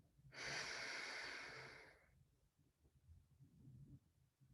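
One long, deep inhale through the nose during a qigong breathing exercise, close and breathy, lasting under two seconds and followed by quiet room noise.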